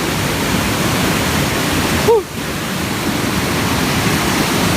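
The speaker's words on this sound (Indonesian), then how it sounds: "sekarang kita sampai baru air terjun pertama ya" Waterfall at Curug Luhur in Sukabumi: a steady, broad rushing roar of falling water, loud and continuous throughout, with a brief faint voice sound partway through.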